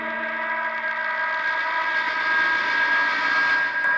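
A Meteor guitar effect pedal gives a train-like sound: a sustained, layered whistling drone with stacked tones that swells slightly and holds steady throughout, with no other sounds.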